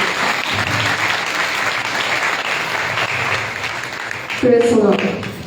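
A church congregation applauds steadily during a Hindi sermon, the clapping continuous and fairly loud, swelling into a louder burst near the end with a voice briefly heard.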